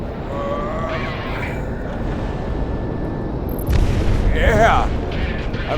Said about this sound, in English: Going for a missile launch.